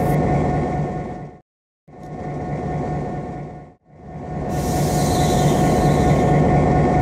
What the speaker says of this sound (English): Here we have another VLine S Class diesel locomotive.